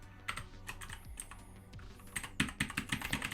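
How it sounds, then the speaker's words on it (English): Irregular bursts of typing on a computer keyboard during a Python and JavaScript web development coding session, close and moderately quiet, with keystrokes growing denser and sharper toward the end. "Ah, bloody keyboard."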